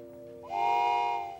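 A train whistle sounds once, a single steady tone that swells in and holds for about a second before fading, set over a low continuous hum with no voices.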